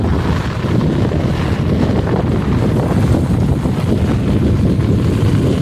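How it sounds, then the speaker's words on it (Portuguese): Strong wind gusting during rain in the dry Brazilian sertão, buffeting the microphone in a loud, continuous rumbling roar with no pauses. "O vento é forte aqui."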